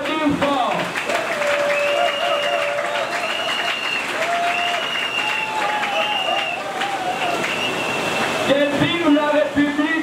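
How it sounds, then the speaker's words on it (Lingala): A crowd at a Congolese political rally applauds loudly and steadily, the dense clapping mixed with cheering and sustained tonal calls or whistles throughout. "Et je vous demande d'applaudir fort."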